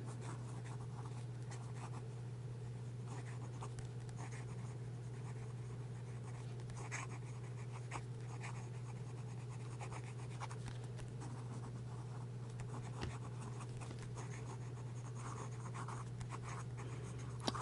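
A Conklin Mark Twain fountain pen writes fast on paper, a continuous soft scratching of the nib that runs steadily throughout over a constant low background hum.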